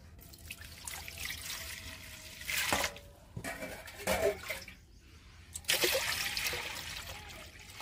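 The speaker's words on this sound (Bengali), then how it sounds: "এর মধ্যে আবার আমি জল দিয়ে দেব।" Water is added to grated raw potato in a kitchen, a quiet, close run of pouring and splashing that comes in three distinct gushes separated by brief lulls, without any speech.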